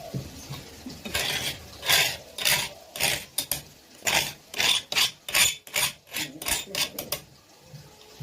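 Spices ground on a traditional stone slab (sil) with a stone roller: rhythmic rasping back-and-forth strokes, about a dozen of them, close and fairly loud with short pauses between.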